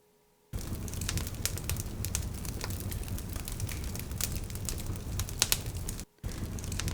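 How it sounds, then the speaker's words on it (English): A campfire crackles close by, loud and constant, with dense irregular pops and snaps, cutting out briefly near the end before resuming. "That's right, that's the sound of a campfire."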